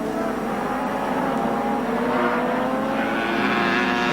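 Superbike engines roar together in a 1983 NGK Superbikes heat, a dense, steady and loud drone of several machines at high revs with no break.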